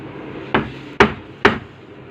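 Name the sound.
hammer striking to knock out ceiling fan part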